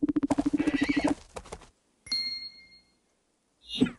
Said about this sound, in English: Oh, do I sense a hungry horse?